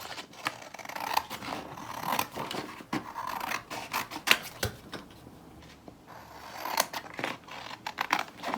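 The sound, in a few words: scissors cutting ballet bodice pattern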